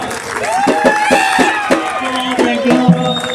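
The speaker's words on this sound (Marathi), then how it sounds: "आमच्या शाहिरांच्यासाठी जोरदार टाळ्या होऊ द्या." An audience at a live shahir folk performance of Dhangari ovi claps and cheers. The clapping is busy and steady, with a voice carrying over it throughout.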